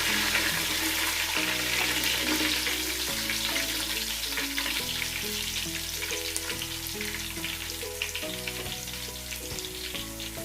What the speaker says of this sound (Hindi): साबुत ज़ीरा और साबुत काली मिर्च, वो डाल देंगे। और इसको भी फ्राई कर लेंगे।